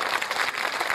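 Mushaira poetry gathering audience clapping in approval of a recited couplet, a brief burst of dense, fast applause from a crowd lasting about a second.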